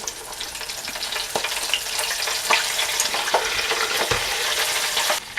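Floured fish pieces fry in a pan of oil with a loud, dense, continuous sizzle and bubbling, broken by occasional sharper crackles and clatters, close by and with no voices.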